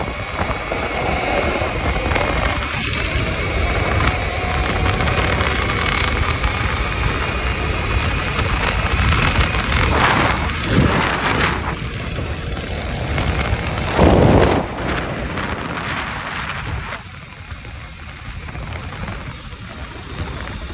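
A Talaria MX3 electric dirt bike at top speed, a steady loud drone of motor whine and rushing wind noise throughout, with a brief louder surge near the end before the sound eases off.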